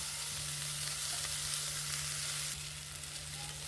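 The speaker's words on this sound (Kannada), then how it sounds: "ಸ್ವಲ್ಪ ಎಲ್ಲ ಚೆನ್ನಾಗಿ ಫ್ರೈ ಆಗಬೇಕು" Ingredients for a field bean curry frying in a pan, a steady close sizzle over a low hum, softening slightly near the end, with no voices.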